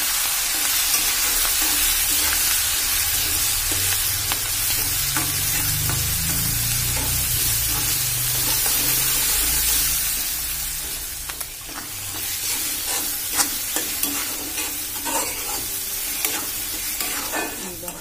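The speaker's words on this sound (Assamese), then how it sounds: "ল' ফ্লেমত অকণমান সময় ভাজিব লাগিব" Ground mustard fries and sizzles steadily in a pan over a low flame, with stirring scrapes throughout and a few sharper clicks near the end.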